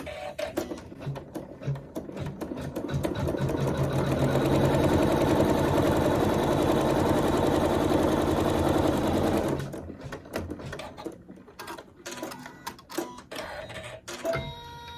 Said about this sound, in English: So I'm going to stick with that neutral thread still in my needle, and I'll sew my seam.